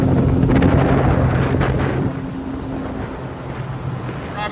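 Sea-Doo RXT-X/GTX/RXP-X 300 or 325 personal watercraft running at high RPM during break-in, a loud steady engine roar with wind buffeting, holding strong then easing slightly in level partway through.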